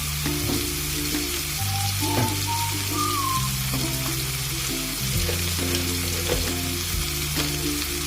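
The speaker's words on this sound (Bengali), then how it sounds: "পেঁয়াজ, রসুন, টমেটো সব ভাজা ভাজা হয়ে গেছে" Onion, garlic and tomato frying in a pan, giving a steady, loud sizzle with occasional stirring scrapes, close by and with no talking.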